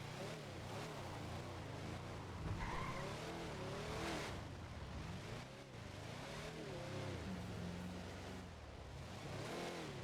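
Video game engine roar with tires squealing through a skid, a steady racing-car drone that swells and dips, loud and continuous with no voices.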